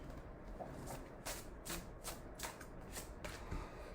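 A deck of tarot cards is shuffled by hand, heard as quick, close riffling bursts that repeat in an irregular rhythm over a quiet room.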